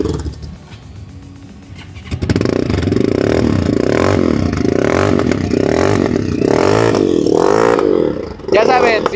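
A Vento Storm 300 ZX 2.0 motorcycle with the same exhaust as the Tornado, its engine starting up after a quiet stretch and then revving repeatedly close to the microphone, with a loud, rough, throaty exhaust note.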